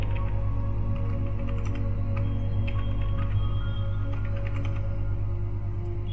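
Keys tapped on a computer keyboard while entering a password, a quick irregular run of light clicks over a steady low electrical hum.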